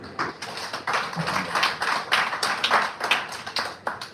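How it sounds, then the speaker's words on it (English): Hands clap together for a coach at a championship press conference in a hotel, a lively, uneven burst of many claps close by, sustained for several seconds without speech. "Let's clap for him."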